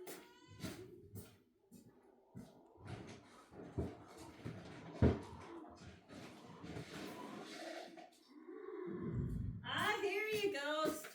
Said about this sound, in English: Horse is bellowing.